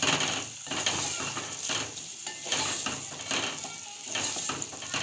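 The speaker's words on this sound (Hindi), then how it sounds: "प्याज को हम अच्छे से फ्राई कर लेंगे" Onions fry in oil in a pot for an eggplant bharta, giving a continuous, fairly quiet sizzle with a bright hiss and occasional crackles, close by and with no talking.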